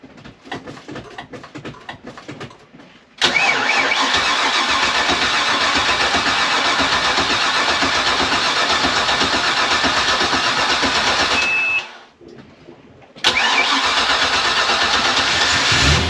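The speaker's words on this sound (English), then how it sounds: "we're going to start the engines and see if everything works" A large boat engine cranks and roars to life, runs loud and steady, cuts out briefly, then the boat's second engine starts and rumbles on.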